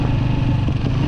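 A motorcycle engine runs steadily and close by on a mountain road in the Kaz Mountains, a loud continuous rumble heard alone without any talking.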